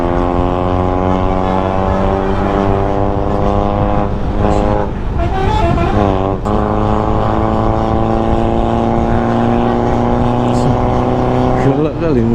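A small car's engine revs hard while racing, a loud sustained buzzing drone that climbs and falls in pitch, with brief bursts of other noise midway.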